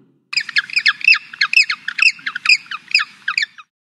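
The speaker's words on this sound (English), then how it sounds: "The penguin lives in the Antarctic." Series of loud, harsh penguin squawks from a black-and-white flightless Antarctic bird, repeated in a rapid rhythmic run of about a dozen calls, with a faint low rumble underneath.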